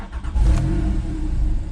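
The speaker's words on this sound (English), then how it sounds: "What I'll do is I'll start the car" A Porsche 911 Carrera S 997.2 with a flat-six and PDK fires up, a brief starter whir then a loud, deep engine catch swelling into a steady idle rumble, heard close by with no talking.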